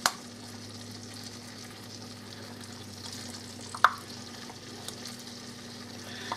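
Two teaspoons of minced garlic cooking in a pan produce a soft, low sizzle under a steady hum, broken by a few sharp clicks of a utensil, quiet and without speech.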